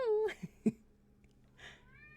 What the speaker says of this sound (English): Do you hear my cat? She's talking.